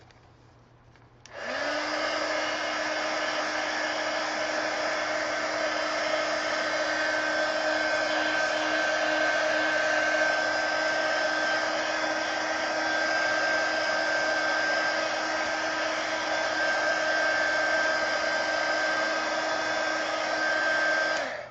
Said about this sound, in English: Let me hit it with the heat gun and dry it.